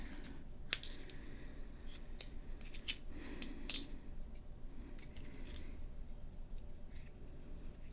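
Scissors snip the top off a plastic glue bag in a quiet room, giving several sharp, close, crisp cuts spaced irregularly over a soft background hiss.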